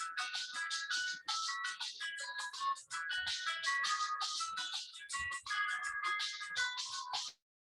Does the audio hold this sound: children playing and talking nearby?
no